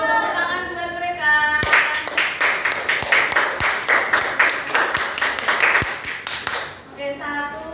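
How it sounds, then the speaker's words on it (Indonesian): Children clapping for classmates in a school classroom, a lively run of rhythmic, close hand claps, with voices speaking before and after. "Tepuk tangan buat mereka."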